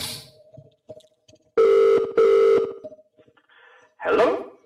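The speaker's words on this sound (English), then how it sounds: "Line is ringing." A telephone line rings on a call, two long steady electronic ring tones in quick succession, loud and clear over faint room noise, followed by a brief burst of sound near the end.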